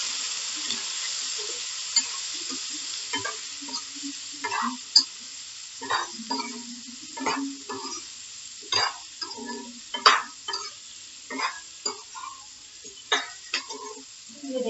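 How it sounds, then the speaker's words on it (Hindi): Eggplant tossed with dry spices in a pan gives repeated close scrapes and clicks of a spoon stirring, in an irregular rhythm over a faint background hiss. "अभी मैं अच्छे से मिला लीजिए।"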